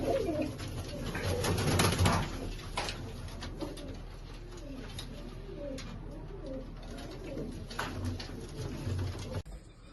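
Pure Meera pigeons, a pair of breeding stock birds, coo repeatedly in soft undulating rolls nearby, with a louder burst of rustling and background noise early on before the cooing settles into a steady rhythm.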